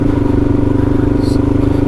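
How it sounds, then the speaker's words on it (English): A motorbike being ridden past a viaduct, its engine giving a steady, close, throbbing drone throughout with wind rush; no clear speech over it. "Now I'm glad I can ride here on a motorbike."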